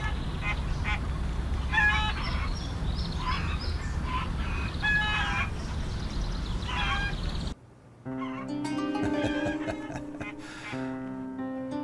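Chickens cluck and squawk over a steady outdoor hum for several seconds, followed by a burst of fowl calls and crowing-like tones.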